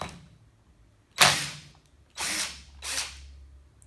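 A cordless power tool drives out screws to take the starter off a chainsaw, three short whirring bursts near the mic separated by brief gaps, the first loudest.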